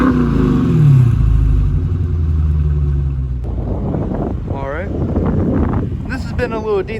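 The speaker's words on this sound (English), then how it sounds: "I know all of you want to hear how this motor sounds" A 50th anniversary Dodge Challenger engine rumbles deep and loud up close, its low drone rising and falling before fading under brighter, voice-like sounds.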